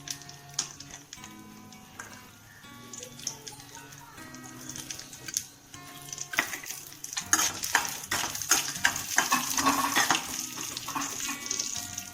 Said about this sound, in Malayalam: ഒരു ചീനിച്ചട്ടി എടുത്ത് 1 സ്പൂൺ നെയ്യ് ഒഴിച്ച് നമുക്ക് അണ്ടിപ്പരിപ്പും മുന്തിരിങ്ങയും ഒന്ന് വറുത്തെടുക്കാം.